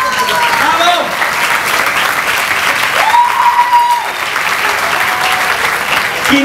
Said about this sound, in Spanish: Así que un aplauso muy grande.